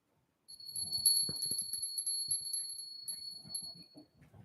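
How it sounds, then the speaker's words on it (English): A small hand bell rings in a quiet room, giving a steady bright tone over several seconds with soft handling clatter beneath it. "Where did my bell go?"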